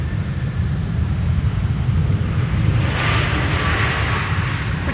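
An airliner lands on runway 18R at Schiphol, heard as a steady, fairly distant jet roar with broadband wind-like rush that swells slightly partway through, with no voices.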